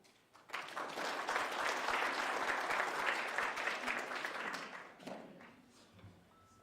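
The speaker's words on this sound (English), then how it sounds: "Without even asking them to give a hand of applause, you do it" An audience in a hall at an agriculture and higher education department event breaks into applause, a dense crowd of clapping hands that swells quickly, holds steady for several seconds, then thins out and fades near the end.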